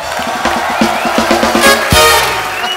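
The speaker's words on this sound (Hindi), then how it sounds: "एक बार सली बाजी और बॉबी बाजी के लिए जोरदार तालियां हो जाए" A television comedy-show studio audience claps and cheers loudly for actors Sunny and Bobby Deol, a dense continuous roar of applause mixed with crowd noise and a rhythmic musical sting underneath.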